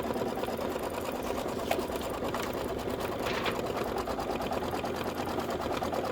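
A home embroidery machine stitches a cross-stitch heart design, its needle chattering in a steady rapid rhythm that runs loud and close without a break.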